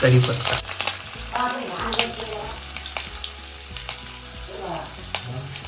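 Garlic and curry leaves sizzle and crackle in a hot pan over a wood-fired stove, a loud close frying hiss with scattered pops and occasional stirring scrapes throughout.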